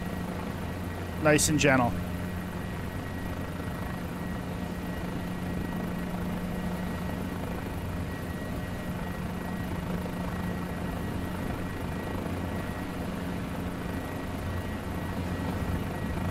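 A Guimbal G2 helicopter in Microsoft Flight Simulator 2020 hovers and settles down for a practice landing, its rotor and turbine making a steady, even drone. A person speaks briefly over it.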